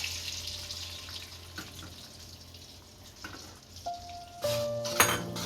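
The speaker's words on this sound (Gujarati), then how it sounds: "ઘી સારી રીતના ગરમ થઈ ગયું છે। આમાં એક વાટકો રવો નાખશું" Semolina frying in hot ghee for peda sizzles quietly at first, then swells into a louder, busier crackle in the last second or so, with no one speaking.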